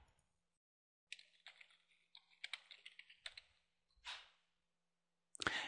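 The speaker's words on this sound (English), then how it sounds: "Type any instructional context for the video." Short bursts of clicky typing on a computer keyboard, a few quick keystroke runs separated by pauses, close and fairly quiet with a breathy sound near the end.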